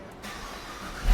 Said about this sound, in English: Now we're gonna pull the car out so Jonathan can hear it outside.